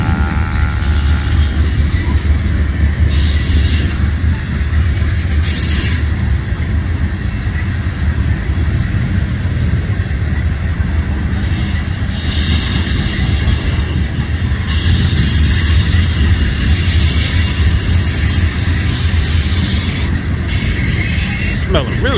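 A BNSF freight train rolls past close by, a loud, steady rumble of wheels on rail with squealing flanges and rattling cars filling the whole stretch without a break.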